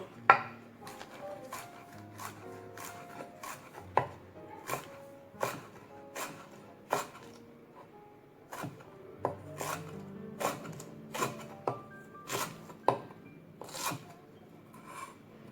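A knife chops through banana blossom on a board in a steady run of sharp, close cuts, with brief pauses between bursts and no talking.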